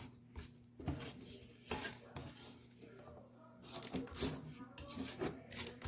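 A spatula scrapes thick cheesecake batter off the sides and bottom of a mixing bowl, giving soft repeated rubbing and scraping strokes in irregular bursts, close up with a low steady hum underneath.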